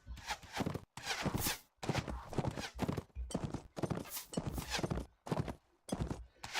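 Horse hooves galloping in the video game Mount and Blade Warband, a loud, close, rhythmic clip-clop of repeated pounding beats in steady bursts with brief gaps, alone without talking.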